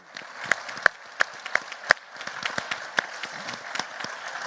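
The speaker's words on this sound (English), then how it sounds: "Let's give them a round of applause" An audience at the HOPE Global Forums 2024 applauds in a hall, with scattered sharp individual claps standing out over a softer, steady patter.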